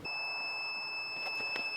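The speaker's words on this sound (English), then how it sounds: "that's a warning from my battery that runs my lights" A jump starter battery powering lights gives a low-battery warning, a steady, loud electronic alarm tone that sounds continuously and alone, with no speech.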